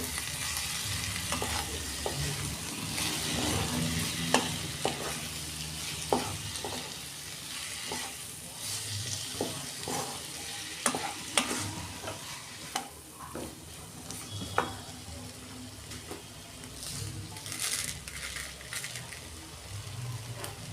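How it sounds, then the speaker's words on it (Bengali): Spiny gourd (kakrol) frying in oil in a pan, a continuous low sizzle with intermittent stirring clatter and scrapes, moderately close, with faint background noise. "আমি ঢাকা দিয়ে দিয়ে ভাজবো"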